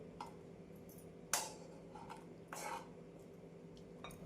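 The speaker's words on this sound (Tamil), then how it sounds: "நாம் எண்ணெய் கத்திரிக்காய் குழம்பை வேறு பாத்திரத்தில் மாற்றி விடலாம்" Oily eggplant curry being spooned from the pan into another vessel, a few sharp metallic clinks and scrapes of a spoon against the pots, spaced irregularly over a quiet background.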